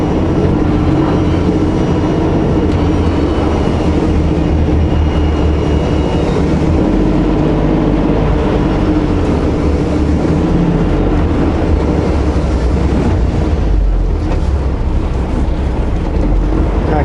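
A SkyTrain rolls along its elevated track overhead, a loud, steady rumble and roar that fills the whole stretch with no voices.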